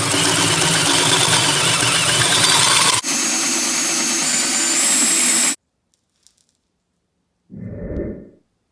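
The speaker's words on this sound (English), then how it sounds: "I'm going to cut through this entire pulley and put the other pulley on top and weld it" A power tool cuts through a riding mower engine pulley, a loud steady mechanical whine that shifts pitch partway through and then cuts off, followed by silence and a brief low rumble.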